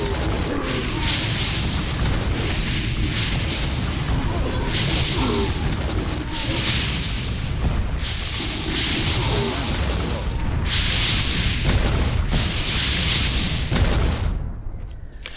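Rain of Fire spell from World of Warcraft: Burning Crusade Classic, a continuous loud roar of fiery impacts with rolling booms pulsing in waves, close and dense throughout before cutting off near the end.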